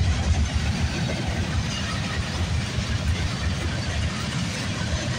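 Low rumbling roar of a six-locomotive BNSF eastbound manifest freight train passing, steady and moderately distant, with no talk.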